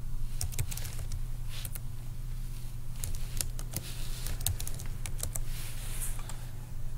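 Keys tapped on a computer keyboard in irregular bursts of close, crisp clicks over a steady low hum.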